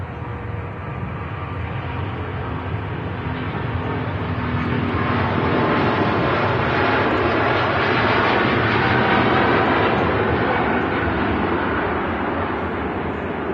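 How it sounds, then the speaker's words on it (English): A Singapore Airlines A350-900 airliner passes at Manchester Airport with a loud, broad jet roar that swells gradually and holds steady, filling the scene with continuous engine noise. "Here we go, Singapore Airlines A350."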